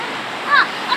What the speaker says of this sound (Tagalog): Grabe lakas ng agos dito guys.